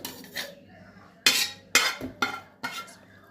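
Sautéed coconut mixture for a chicken sambar is scooped into a mixer jar, with several distinct scraping clinks of a metal spoon against the pan and jar spaced out over a few seconds.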